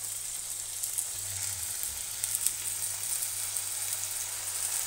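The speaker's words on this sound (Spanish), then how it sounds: "Y ahora lo que vamos a hacer es pasarlo por la sartén, por los dos lados, lo vamos a sellar." Turkey tenderloin sears in hot oil in a frying pan, giving a steady, close hiss and sizzle that holds evenly throughout with no voices.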